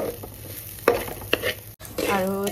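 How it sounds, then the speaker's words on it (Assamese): Sticky rice being stirred and fried over low heat in a pan, with a few scraping stirs and soft sizzling, fairly quiet and close. "একেবাৰে কম জুইত এনেকৈ লৰাই অকণমান সময় ভাজি ল'লোঁ এই বৰা চাউলখিনি।"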